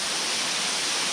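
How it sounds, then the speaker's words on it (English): Water from a feeder creek of the Wilson River running nicely in a steady, close rush of broadband noise with no breaks and no talk. "So this is a feeder creek to the Wilson."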